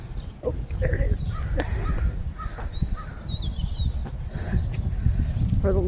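Crows caw a few times against a hawk or osprey overhead, short harsh calls at mid distance over low outdoor rumble and rustling, with a person talking nearby.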